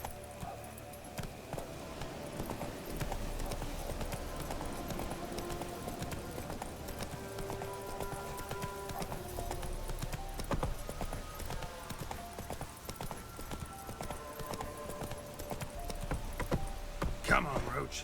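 Roach, the horse in The Witcher 3, gallops with quick repeating hoofbeats under game music, while a voice urges it on between the strides.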